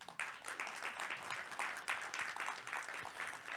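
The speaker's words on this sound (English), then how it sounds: "Can we have a round of applause for them?" Audience applause at a panel event, a quiet, fairly distant patter of many hands clapping with a few sharper individual claps standing out.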